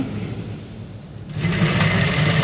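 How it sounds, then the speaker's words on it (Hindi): Sewing machine stitching the elastic section of a simple trouser, steady whirring that starts softer and then runs louder and faster for the second half. "यहाँ से भी रिपीट सिलाई होगी।"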